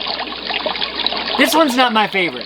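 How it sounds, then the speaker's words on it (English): A Renpho white noise machine plays a water-flowing-through-a-pipe sound, a soft continuous trickle that sits beneath a person talking over most of it. "It's water like flowing through a pipe"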